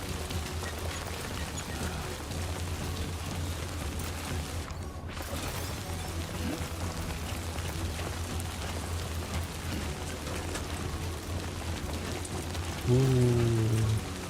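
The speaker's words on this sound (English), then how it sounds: "Oh no, it's raining." Rain falls steadily in Death Stranding 2, a dense even patter that runs throughout, with a brief low mechanical tone near the end.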